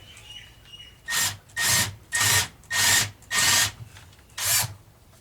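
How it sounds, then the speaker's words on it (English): Six rasping bursts of a drill biting into a wooden guitar pickup ring, evenly spaced about half a second apart, close and loud with no talking. "I'm just going to drill about where those screws are"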